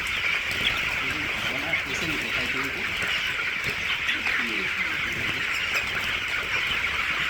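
Chickens squabble over scattered feed, a busy layer of clucks, squawks and scratchy flapping running steadily throughout, with people talking nearby over the flock.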